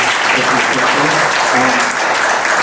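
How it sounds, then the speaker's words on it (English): An audience claps loudly and steadily throughout for a panel at a conversation event, dense applause with a faint murmur of voices underneath. "we'd love to give our panelists a rousing round of applause"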